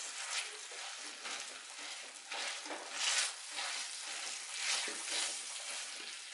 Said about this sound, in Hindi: ये जो आलू मसलने वाला होता है इससे हम अच्छी तरह इसे मसल लेंगे